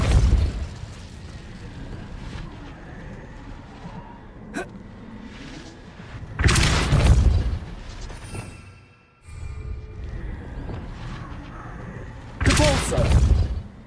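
Depulso spell blasts in the Hogwarts Legacy video game land as two heavy booming bursts over quieter game ambience, with a voice briefly heard between them.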